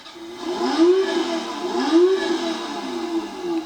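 A children's quad bike engine being started, a steady motor whir with two rising pitch sweeps as it spins up, fairly loud and continuous with no talking.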